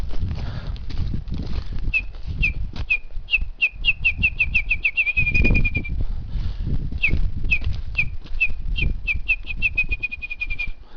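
A person whistles an imitation of a bird's ping-pong-like call, heard on a forest trail: two runs of quick, accelerating clear whistled pips, each ending in a short steady note, over low wind and outdoor background noise.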